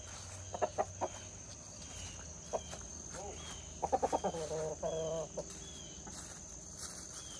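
Backyard chickens clucking in short bursts close by, a few single clucks then a quick run of rising calls, over a quiet outdoor background with faint insects.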